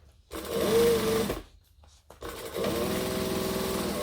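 A sewing machine back-stitches through fabric in two short bursts of fast, steady whirring, with a brief pause between them; close and fairly loud, with no voices.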